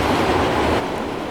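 A train runs along the mainline in Transport Fever 2, a loud, continuous rumble of wheels and rolling stock that drops slightly in level partway through.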